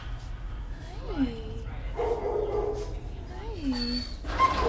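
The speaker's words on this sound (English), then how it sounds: "that is a pile of puppies right there" A pile of puppies whimpers and yips in a kennel, giving several rising and falling cries close by, with one higher squeal near the end and a low background hum.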